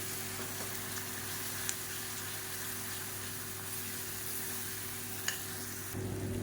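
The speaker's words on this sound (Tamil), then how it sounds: "இப்போ இந்த எண்ணெயில் இந்த பூண்டு வந்து நல்லா அப்படியே வதங்கி வரும்." A handful of garlic fries in oil in a pan for a high-protein dosa recipe, giving a soft, steady sizzle with a couple of faint clicks and a brief change near the end.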